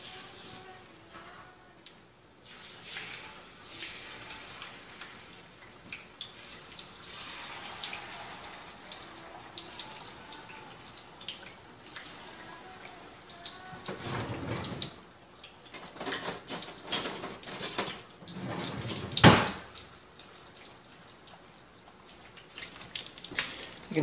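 Catfish pieces fry in hot oil, a soft, continuous sizzle and crackle that swells into louder bursts of popping and spattering partway through.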